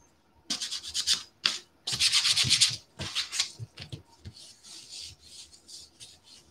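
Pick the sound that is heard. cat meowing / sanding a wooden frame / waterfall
sanding a wooden frame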